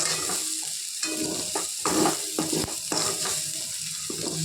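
Ivy gourd fry being tossed in a pan, a soft sizzle with uneven bursts of spatula scraping and stirring against the metal, close and alone.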